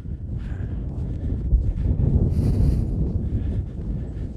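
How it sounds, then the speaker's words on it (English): Wind buffets a microphone fitted with a wind muff on a snowy hilltop summit, a continuous low rushing and gusting that swells in the middle of the clip. "It's a bit breezy."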